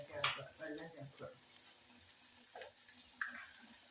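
Water poured into frying okra (ladies' finger) curry sets off a sharp burst of sizzling, then a steady frying crackle with occasional stirring scrapes in the pan, fairly close.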